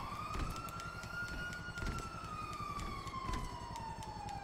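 Emergency vehicle sirens in Grand Theft Auto V, with fire trucks, ambulances, police cars and helicopters in play: a loud, steady wailing siren slowly rises and falls throughout, over a dense rumble, with no talking.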